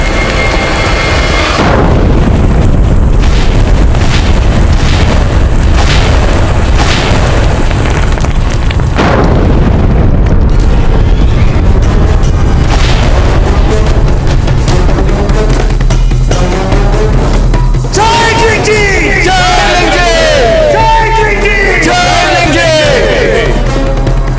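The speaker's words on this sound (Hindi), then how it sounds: "धमाका हुआ है अकबर की छावनी में।" A loud gunpowder blast tears through an army camp, a booming explosion followed by sustained rumbling roar and crackling debris, with dramatic music and raised voices rising over the chaos toward the end.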